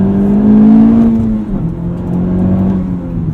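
A 2020 Honda Civic Type R engine pulls hard under acceleration, a loud close drone rising in pitch, easing briefly around a shift, then climbing again, with no voices.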